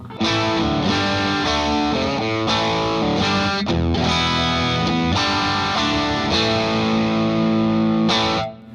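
Distorted electric guitar chords played through an overdrive pedal ring out loud and sustained, struck in a loose rhythm with a gritty, slightly fizzy overdriven edge, then cutting off at the end.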